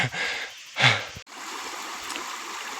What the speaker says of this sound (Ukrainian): Ось наш струмочок.